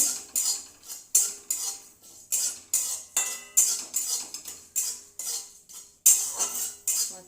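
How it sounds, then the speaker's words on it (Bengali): A utensil scrapes and stirs dried red chillies, cumin and whole coriander seeds in a dry pan, making a rhythmic series of metallic scrapes, roughly one per half second, loud and close, with no voices. "আমি দুটো শুকনো লঙ্কা, অল্প একটু জিরে, অল্প একটু গোটা ধনে শুকনো খোলায় ভেজে নেব"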